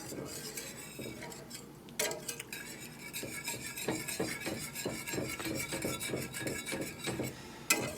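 A spoon stirs sauce suprême in a pan with quiet, rhythmic scraping and rubbing strokes that repeat continuously at close range, with an occasional sharper clink against the metal.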